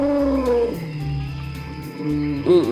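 An elephant calling in a children's nature cartoon, a loud trumpeting, roaring cry rising and falling, followed by another short call at the end.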